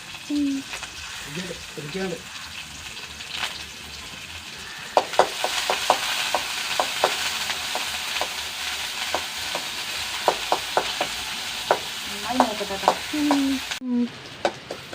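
Curry leaves and small onions fry in coconut oil, a continuous sizzle punctuated by repeated scraping and stirring clicks of a spoon against the pan, with a voice talking briefly at the start and near the end.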